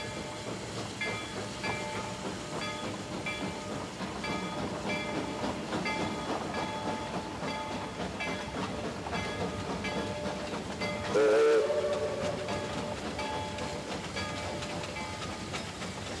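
A passenger train hauls its string of coaches through the Whitewater Valley, a steady rolling rumble with wheel clatter throughout and a brief louder burst near the end, no voices.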